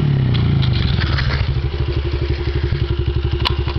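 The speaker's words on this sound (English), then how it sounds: "it's a 70 Honda dirt bike, manual." A 2002 Honda 70cc manual dirt bike runs up close and loud, its small single-cylinder engine dropping from a revving rasp into a rapid, even, thumping idle with a brief click near the end.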